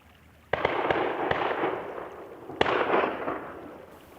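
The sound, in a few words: distant gunshots from neighbors shooting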